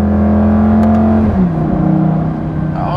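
Lamborghini Gallardo Superleggera engine, first generation, revving up under acceleration. It is loud and close, with a rising engine tone that dips and climbs again as the car shifts, and no talk over it.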